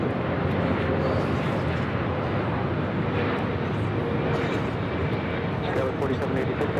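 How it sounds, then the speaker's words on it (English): A Swiss Boeing 777-300ER airliner on arrival from Zurich rumbles as a broad, sustained jet roar, steady and fairly loud for the whole stretch, with a commentator talking over it. "The next arrival is Swiss Flight 40 coming in from Zurich."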